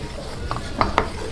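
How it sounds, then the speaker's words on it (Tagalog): Butter melting in a pan, a soft steady sizzle with a few light scraping stirs, close and fairly quiet, no voices. "tutunawin lang po natin yung ating butter"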